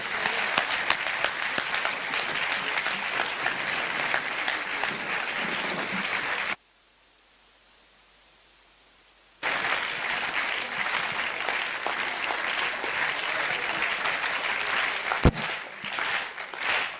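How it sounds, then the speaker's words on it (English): An audience at an inter-school science quiz competition applauds the finalists, dense loud clapping that runs for several seconds, drops out abruptly into near silence, then resumes just as full. "let us give them a huge round of applause"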